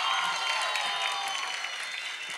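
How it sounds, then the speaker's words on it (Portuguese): A crowd applauds and cheers at a rap battle, the state final in Amazonas, with dense continuous clapping that holds at an even level for the whole stretch. "faça uma salva de palmas para essa batalha"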